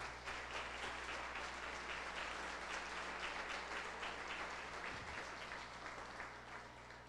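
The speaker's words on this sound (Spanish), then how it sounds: "Den un aplauso al Señor en esta hora" A church congregation applauds during a service, sustained dense clapping from many hands heard at a moderate distance, steady throughout with a slight fade near the end.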